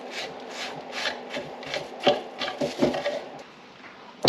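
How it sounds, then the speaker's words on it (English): Old paint being scraped off historic wood trim by hand, a close series of rhythmic rasping scrapes, roughly two per second, moderately loud with short pauses and no talk. "But I'll just scrape the rest."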